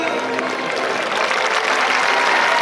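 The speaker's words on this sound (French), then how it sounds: "un tonnerre d'applaudissements pour Buffalo Bill" Applause from the audience at an equestrian show at Equiblues 2025 in Saint Agrève, a steady dense clapping that fills the whole stretch without a break.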